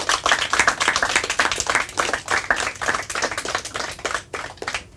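A small crowd claps for a fourth-place team at a quiz prize announcement, with dense, uneven hand claps running steadily through the whole stretch and fading slightly near the end.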